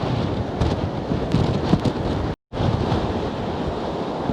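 Strong wind buffeting a microphone on a coast with big waves crashing, a loud, steady roar of gusts and surf broken by a brief dropout midway.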